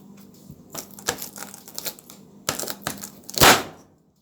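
Knife chopping medium corn cobs into thick rounds for a Jamaican chicken and pumpkin soup, giving several sharp, close cutting knocks with a louder final chop and no talking.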